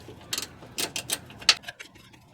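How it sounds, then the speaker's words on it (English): A ratchet wrench removes a 10 mm bolt from the oxygen sensor bracket under a 2015 Toyota Prius, giving a quick series of close, sharp metallic clicks. "we just need to take this bolt out here. This is a 10 millimeter"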